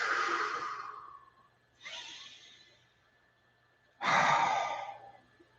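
Three slow, deep breaths taken during a guided meditation, each a long airy exhale, close to the microphone with quiet pauses between them and no talk.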